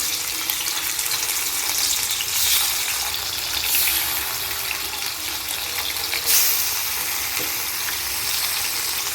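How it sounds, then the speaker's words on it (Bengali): Pieces of katla fish fry in hot oil, giving a steady broadband sizzle with a few louder surges, and no one talks over it. "এবার আমি বাদবাকি মাছ কটা ভেজে নেব।"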